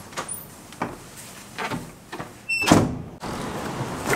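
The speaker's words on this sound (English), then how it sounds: "Out of closet doors. Out of apartment doors." Doors opening and closing indoors, heard as several soft thumps and shuffles leading to a louder latch clunk and bang near the middle, then a quieter room. No one speaks.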